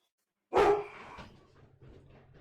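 Indoor dogs give one sudden loud bark, close and sharp, followed by fading echo and low rumbling noise.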